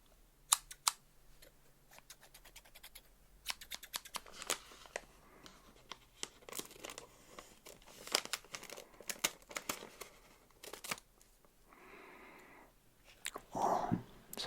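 Scissors cut a plastic candy wrapper up close: crinkling with sharp snips, rustles and small clicks, irregular and fairly quiet, ending in a louder burst of crackling.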